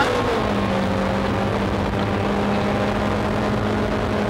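Rally car driven by Luc Brunet on a special stage of the 2006 Rallye des Draveurs, heard from a bumper-mounted camera: a loud, steady engine drone holding an even pitch throughout, with no talk.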